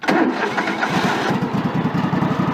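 A Craftsman 3000 series riding mower with a broken seat switch cranks briefly, catches and settles into a loud, close, rhythmic idle, with no talking over it.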